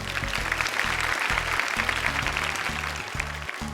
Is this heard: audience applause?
yes